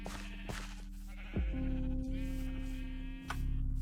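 A Minecraft Java sheep bleats several times in a long, steady, fairly loud wavering call, set against constant game background sounds.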